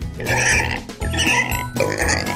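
A pig grunts and oinks in three loud, close bursts, each a rough, nasal squeal in quick succession, with no talking over it.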